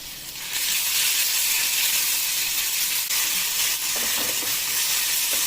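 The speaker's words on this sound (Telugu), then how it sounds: "ఆయిల్లో ఈ తురుము కొంచెం వేగాలి" Grated ingredient dropped into hot oil with turmeric and a pinch of asafoetida, bursting into a loud, steady hiss that holds close and constant, with a few faint stirring sounds and no speech.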